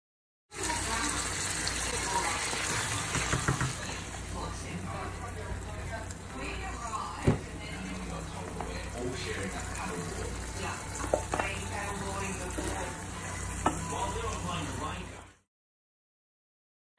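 Canned ackee tipped into a hot pan and stirred, giving a steady frying sizzle with occasional scraping knocks and clinks from stirring. A voice talks faintly over it.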